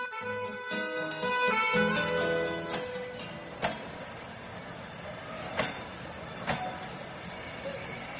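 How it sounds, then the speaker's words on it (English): An express train rolls along steadily with a rumbling, rattling drone, and a few sharp clacks punctuate the run at regular intervals. "The express train runs day and night."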